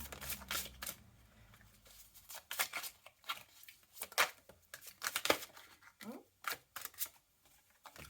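Tarot cards being drawn and handled from a deck, a series of short papery slides, flicks and rustles arriving in uneven bursts, close and fairly quiet.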